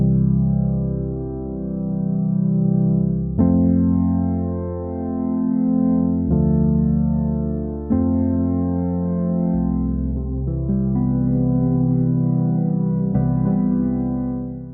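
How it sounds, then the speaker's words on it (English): Soft Guy, a soft-sounding synth preset in Logic Pro, plays smooth sustained chords with mellow, rounded tone and gentle swells, each chord change gliding in with no sharp attack, alone and clear. "It's meant to be a very, obviously, soft sounding synth. That sounds like this."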